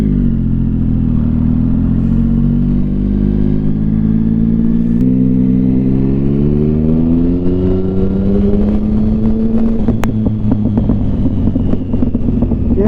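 A Mini car with a loud, oil-leaking exhaust drones past close by, its deep engine note rising steadily in pitch over about thirteen seconds, heard over a motorcycle rider's steady wind and engine rumble.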